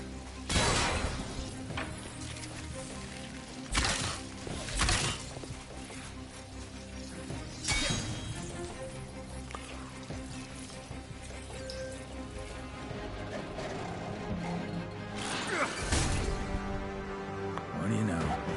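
Objects smashing and breaking in The Avengers: Future Imperfect video game, several loud crashes spaced a few seconds apart over steady game music, with a voice talking between them.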